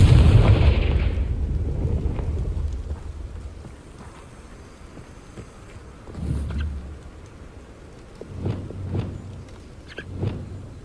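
A Confringo spell blasts in Hogwarts Legacy, opening with a loud booming explosion that rolls off into a fading rumble, followed by a few softer thuds and crackles.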